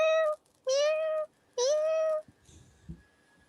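A person imitates a cat, giving three drawn-out, high, nasal meows in a row, each lasting about half a second, loud and close, followed by quiet background noise.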